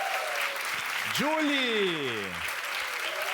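Audience applause for a live band on a studio talk show, a broad layer of clapping under a voice calling out a name, accompanied by sliding tonal sounds like vocalizing or an instrument.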